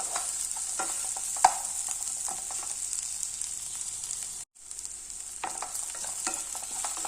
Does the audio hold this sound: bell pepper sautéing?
yes